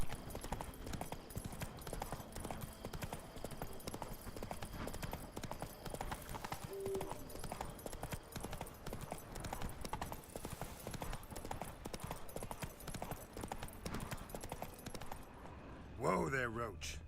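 Roach the horse galloping in The Witcher 3, with rhythmic hoofbeats pounding steadily and continuously at moderate volume, joined by game ambience and a brief voice near the end.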